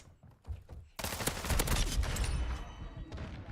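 Gunfire from hip fire in a first-person shooter game: a few scattered shots, then a dense, loud burst of rapid automatic fire lasting over a second, with crackling impacts trailing off.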